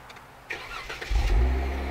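A car engine with dual exhaust turns over and settles into a deep, throaty rumble, the low exhaust note growing louder and steady.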